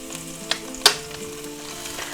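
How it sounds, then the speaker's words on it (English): A sous vide chuck roast sears in a very hot cast iron skillet, giving a steady close sizzle broken by a couple of sharp clatters. "you need a really hot cast iron skillet. And it'll put a crust on there really quick"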